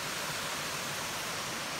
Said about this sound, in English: Then we've got the waterfalls on Rocktown Branch over here.